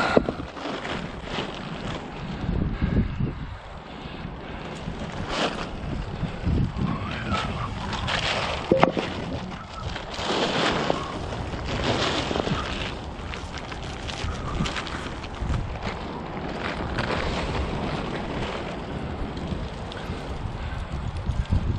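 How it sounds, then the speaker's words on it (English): Strong outdoor wind buffets the microphone for the whole stretch while deck lumber is being measured for a bench: a loud, unbroken roar that swells and eases without any pause. "the wind ain't exactly cooperating with me"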